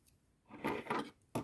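Metal embroidery scissors clink and rattle a few times during cross stitching, close and fairly quiet, ending with a sharper click.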